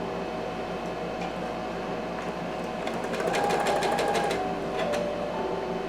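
A sewing machine stitches a seam on a fabric sun hat, a steady mechanical whir with a quicker burst of needle clatter midway, fairly quiet and close, with no talking.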